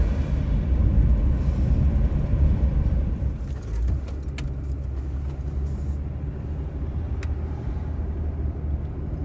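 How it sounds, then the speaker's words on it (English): A four-wheel-drive car drives on a beach, giving a steady, close low rumble of engine and tyres from the cabin with small rattles throughout. "We're driving in my sister's car because you gotta have a four-wheel drive to drive on the beach."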